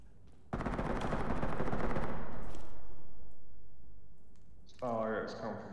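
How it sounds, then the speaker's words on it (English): Gunfire in the tactical shooter game Ready Or Not: a sustained, dense burst of automatic fire erupts suddenly, loud and rattling for several seconds before fading, followed by a person speaking. "Somebody's shooting."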